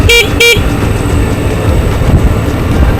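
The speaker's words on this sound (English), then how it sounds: "So you just do a little honk." Two short, bright scooter horn honks in quick succession on a road in Da Nang, Vietnam, followed by the steady rumble of traffic and engine noise.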